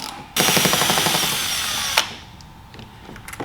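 A power tool spinning out the rear Torx screws on a C8 Corvette front lip, one loud buzzing whir of about a second and a half, then it stops with a clack followed by a few faint clicks.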